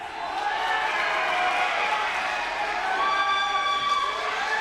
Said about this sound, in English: Crowd going wild for Joy Boy there